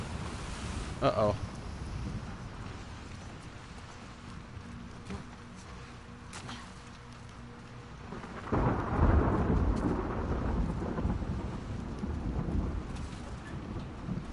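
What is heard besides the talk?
storm with thunder and rain in video game The Last of Us Part II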